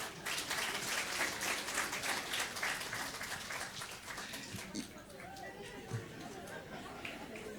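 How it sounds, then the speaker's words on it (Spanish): Applause and crowd chatter fill a church congregation during a New Year's service, dense and steady at first, then thinning into scattered murmur and voices. "Nuevamente, démosles aplauso."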